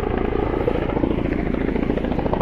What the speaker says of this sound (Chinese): 飞机飞来飞去还真的 蛮有效率